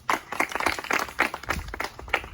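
A short burst of applause from a group clapping together, dense overlapping claps that stay at a steady, moderately loud level for a couple of seconds.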